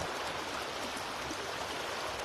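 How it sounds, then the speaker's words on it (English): A river flows with a steady, soft, broadband rush of water, continuous and fairly faint, with no other sounds. "Just sense the sounds of the river."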